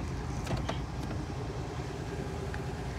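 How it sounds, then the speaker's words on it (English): A truck engine idles in park during a traffic stop, a low, steady rumble heard nearby and continuously, with a few faint clicks over it. "You can leave the truck running and definitely leave it in park."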